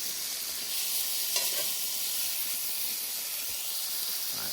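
Food sears in a pan over a campfire with a steady hissing sizzle, bright and continuous, with a brief stir or scrape near the middle.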